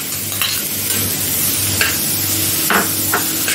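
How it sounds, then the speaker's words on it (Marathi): Tomato tipped into a pan of sautéed onion crackles and sizzles steadily up close, with a few sharp scrapes of a spoon stirring through the mix. "कांदा थोडासा परतला, आता घेतलेला टोमॅटो आहे तो पण टाकते"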